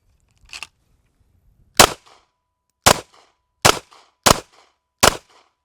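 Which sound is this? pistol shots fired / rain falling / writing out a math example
pistol shots fired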